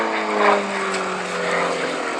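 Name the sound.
small propeller aeroplane flying at an airshow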